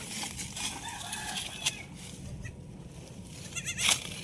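A goat bleats a few times on a farm amid steady outdoor noise, with chickens clucking in the background and the calls coming through faint to moderately loud.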